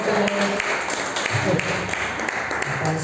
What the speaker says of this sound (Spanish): Un aplauso para la pastora que está con nosotros